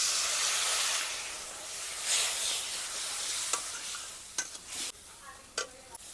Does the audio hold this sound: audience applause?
no